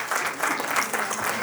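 Audience applauding steadily at a sangeet wedding celebration, a dense, sustained wash of clapping from a crowd with faint voices mixed in.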